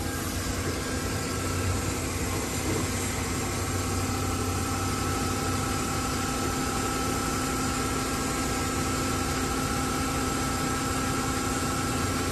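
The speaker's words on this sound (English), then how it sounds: "Engine sounds nice." A 2011 Mercedes C300 engine idles steadily for about twelve seconds, a constant close hum with low vibration and no revving or voices.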